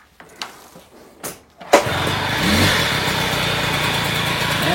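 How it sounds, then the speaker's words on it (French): A first-model Peugeot 103 moped is kicked over with a few short mechanical clatters, then its small engine catches and runs on at a steady, close, fairly loud idle. "Alors on essaye le démarrage."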